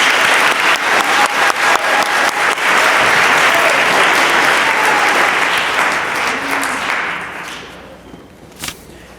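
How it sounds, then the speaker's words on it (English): Crowd applause at an eighth-grade middle school promotion ceremony, loud and sustained clapping that gradually fades out, ending with a single sharp knock. "Round of applause for Miss Dunham's homeroom."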